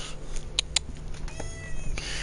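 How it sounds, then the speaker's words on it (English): A house cat named Jack meowing for cuddles, a few short plaintive meows close to the microphone over a low background hum. "That sound is the sound of a sad pussycat who wants cuddles."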